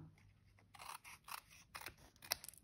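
Scissors trim paper during card making, giving several crisp, close snipping cuts in short succession at a quiet level, with no speech.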